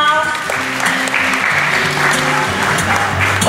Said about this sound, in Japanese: もう一度大きな拍手をお願いします。